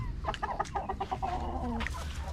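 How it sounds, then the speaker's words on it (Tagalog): Chickens clucking nearby in a backyard coop while feeding, a quick run of rhythmic clucks followed by a drawn-out call, moderately loud over a low background hum. "Yung mga manok ko."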